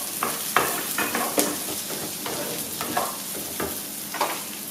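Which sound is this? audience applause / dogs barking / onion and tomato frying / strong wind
onion and tomato frying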